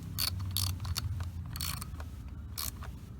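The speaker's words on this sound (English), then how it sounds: "Now we're going to snug them down with a ratchet." Ratchet snugging down battery terminal bolts on a trickle charger install: repeated bursts of close, loud clicking and metallic scraping come in uneven strokes over a steady low hum.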